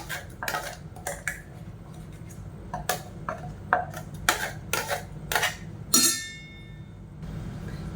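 A spoon stirs tomato paste into dosa batter in a metal bowl for masala egg dosa, giving repeated close clinks and scraping knocks at an irregular pace, with no one speaking.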